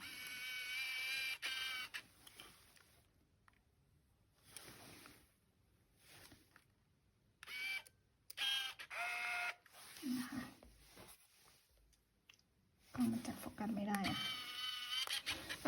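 A Minolta Capios 125s compact film camera's lens motor whirring in short bursts as it zooms in and out, quiet and close, with soft mechanical clicks between runs.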